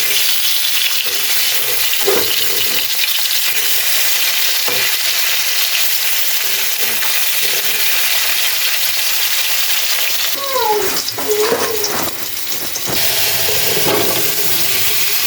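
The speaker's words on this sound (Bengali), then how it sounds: "মশলা কষিয়ে আমি সবজিগুলো দিয়ে দিলাম কিছু" Vegetables sizzle loudly in a pan of spiced masala over a village cooking fire, a continuous close frying hiss with occasional stirring and scraping sounds partway through.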